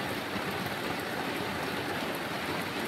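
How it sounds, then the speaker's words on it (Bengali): Rain falls steadily through a wet night, a dense, even hiss of drops that stays constant and moderately faint throughout, with no voices. "তো আজকে শুধু তোমরা বৃষ্টি দেখে যাও"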